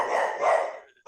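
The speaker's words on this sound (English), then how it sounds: "He's barking too loud." A single drawn-out dog bark or howl-like yelp, fairly close, fading out within about a second.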